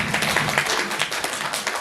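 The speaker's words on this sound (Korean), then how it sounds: "큰 박수 부탁드리겠습니다." Audience applause at a construction company's remodeling presentation, a dense steady wash of many hands clapping close by, filling the whole moment without any talk.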